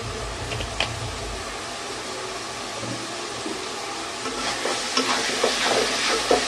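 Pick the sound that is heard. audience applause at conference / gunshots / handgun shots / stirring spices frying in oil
stirring spices frying in oil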